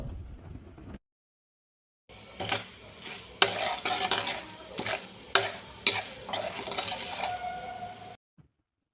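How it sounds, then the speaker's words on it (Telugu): Chana dal frying in oil in a pan while being stirred for star fruit pulihora, a steady sizzle broken by scraping spoon strokes and metal clinks, close and fairly loud, starting after a short silent gap. "రెండు స్పూన్లు శనగపప్పు వేసుకుని కొంచెం దోరగా వేయించండి"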